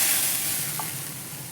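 Water poured into a wok of hot oil with cumin seeds and cut green chillies gives a continuous, close, loud sizzling hiss that eases slightly over a second and a half.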